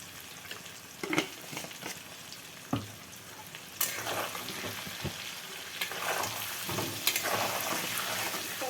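Potatoes frying in a pan for a chicken curry, a continuous close sizzle with scattered pops and occasional clatters of stirring, growing a little louder partway through.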